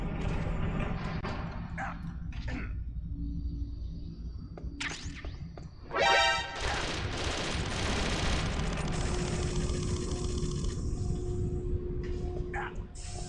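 Gunfire from the video game Metal Gear Solid: The Twin Snakes rattles out in bursts and single shots over dense game sound effects and music, loud and continuous throughout.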